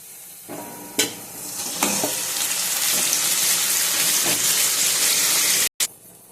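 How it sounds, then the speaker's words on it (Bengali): Marinated meat hits hot oil with reddish fried onions, whole garam masala, cumin and bay leaf, giving a loud, steady close-up sizzle with a few stirring clinks and a brief silent break near the end. "এবার দিয়ে দেবো ম্যারিনেশন করা মাংসটা।"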